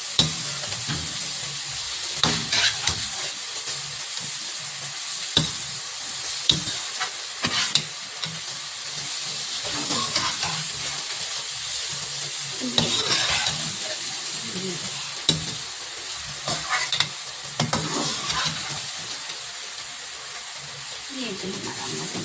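Egg and onion masala stirred in a hot pan, giving a continuous sizzle broken by repeated sharp scrapes and clacks of the spoon, close and fairly loud.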